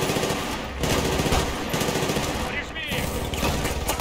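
Enemy machine gun fire in Battlefield Bad Company 2 rattles in dense, sustained bursts with a brief break near the middle, loud and close against a busy combat backdrop.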